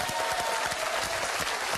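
Studio audience applauding the technical crew of a French TV quiz show, dense steady clapping throughout, close and moderately loud, no talking over it.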